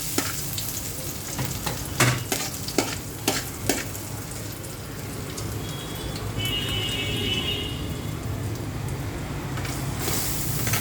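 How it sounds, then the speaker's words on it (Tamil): Ginger sautéing lightly in a pan, a steady soft sizzle running throughout with a few stirring clicks and scrapes early on, close and fairly loud with no talking. "இஞ்சி போட்டு லைட்டாக வதக்கிக்கிறோம்."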